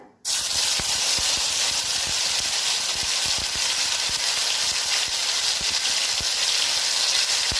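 Chili paste goes into hot oil already tempered with bay leaf and whole cumin, and the oil bursts into a loud, steady hiss. The crackling sizzle holds unbroken throughout, with small pops scattered through it.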